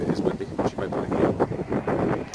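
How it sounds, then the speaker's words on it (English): Gusty wind buffets the microphone outdoors while cycling from Carlisle to Hamilton on a Land's End to John o' Groats ride, rising and falling in bursts under a man's speech. "The wind hasn't been too unkind to us, although it is windy"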